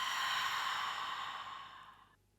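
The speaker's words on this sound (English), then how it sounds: "And then a full breath out." A long, full breath out during a yoga session, a steady airy exhale near the microphone that gradually fades away over about two seconds and ends in quiet.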